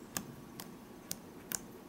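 Four sharp, quiet pops or clicks at irregular intervals from an RC drift car's dogbone popping on a flat spot, close by against faint background noise.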